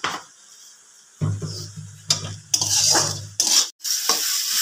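Spice masala for katla fish kalia sizzles and fries in a pan, with bursts of stirring and scraping over hot oil and intermittent louder hisses. The sound is close, with brief pauses and no talking.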